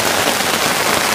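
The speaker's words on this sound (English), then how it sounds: "if you want to see how hard it's raining" Heavy rain pounds on a Sierra Dome tent and its rain fly, a loud, dense, continuous hiss of drops drumming on the fabric, close up, with no speech.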